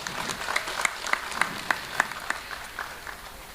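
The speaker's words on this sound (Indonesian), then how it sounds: "Tepuk tangan, tepuk tangan." Sparse, modest applause from a small audience at a PSHT martial-arts gathering in Indonesia: a handful of distinct claps landing in a loose, uneven rhythm, fairly faint and thinning out toward the end.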